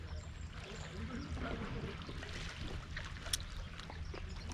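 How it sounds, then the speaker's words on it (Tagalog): Sea waves surge and wash onto a beach shore, giving a continuous low rumbling roar with hissing water texture throughout and a brief splash near the end. "dito na namang alon, magwala"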